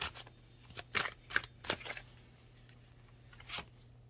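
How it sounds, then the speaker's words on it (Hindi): Tarot cards are drawn from a deck in a few quiet, papery snaps and slides, spaced irregularly over a soft background hum, with no talking. "मैं 2 कार्ड्स निकालती हूँ।"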